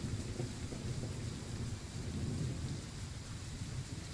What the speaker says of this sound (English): add the sound of thunder